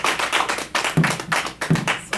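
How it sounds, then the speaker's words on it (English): A few people at a Sunday church service clapping, sparse, uneven hand claps and taps close by, without talk. "Let's give a clap for the Lord for her."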